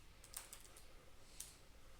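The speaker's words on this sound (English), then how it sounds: "I'm typing the name without the extension" Typing on a computer keyboard, a few quiet, close key clicks spaced unevenly over two seconds against a low, hushed room background.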